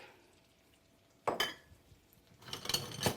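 Chopped leeks drop into a pan of melted butter and olive oil, setting off a sudden close sizzle with scraping pan clatter, a pause, then a second louder burst of frying and stirring noise.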